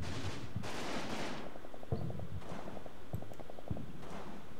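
Enemy gunfire in a video game crackles in quick bursts and single shots amid rumbling game noise, moderately loud and a little distant, without talk over it.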